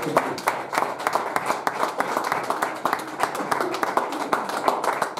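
A church congregation claps steadily to acclaim the Lord, many hands together in a dense, rhythmic, fairly loud patter that keeps going through the whole stretch.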